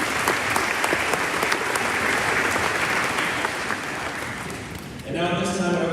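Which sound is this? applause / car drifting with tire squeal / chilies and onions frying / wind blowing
applause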